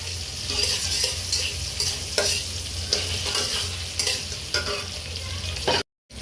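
Chicken pieces fry in a pan for chili chicken, with dried chili added: a continuous, close crackling sizzle with intermittent scraping stirs, then a sudden brief cutout to silence near the end.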